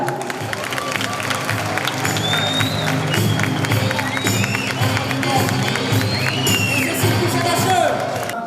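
An audience at a food event in a historic caravanserai applauds and cheers as a chef is introduced for a snail cooking duel, with loud continuous clapping, whoops and crowd noise while people talk and shout over it.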